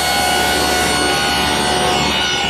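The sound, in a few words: router bit cutting ogee molding profile in wood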